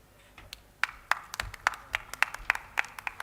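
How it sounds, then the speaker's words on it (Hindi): Scattered, uneven claps from an audience at a women's conference, a dozen or so sharp individual hand claps spaced irregularly rather than a full burst of applause. "जोरदार तालियों से"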